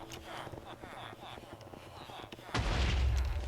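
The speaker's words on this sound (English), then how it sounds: "what we have to do is place these two items down and blow them up" Two placed items blow up in a video game base, a sudden heavy boom with a rumbling burst near the end, after quieter clicks and game sounds.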